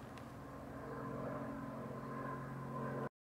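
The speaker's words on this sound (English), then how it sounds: "there's a plane." Airplane passing overhead, a steady droning hum with a low tonal roar that holds fairly level, moderately loud, then cuts off abruptly at the end, with no voices.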